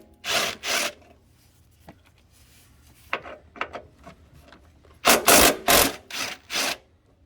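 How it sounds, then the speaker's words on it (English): Bolts being loosened from a side bar bracket on a 2012 Ford Escape: scraping, rasping bursts of wrench work on metal, loud at the start and again near the end, with quieter clicks and taps between. "now we've got to take these bolts out here"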